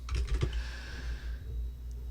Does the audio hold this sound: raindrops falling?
no